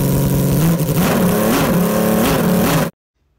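A six-cylinder Honda RC174 replica engine runs on a bench stand, a loud, close, steady multi-cylinder howl with small rev rises and dips, cutting off abruptly near the end.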